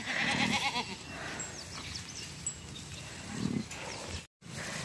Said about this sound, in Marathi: एवढ्या मेंढ्या झाल्या?